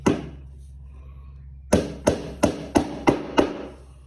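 A hammer strikes a nail six times in a quick, steady rhythm after a short quiet stretch; each blow is sharp, close and ringing.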